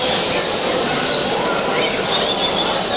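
Exotic birds at a bird fair chirp and call amid a busy, noisy background, with overlapping tweets and a faint coo mixed into the steady crowd hum.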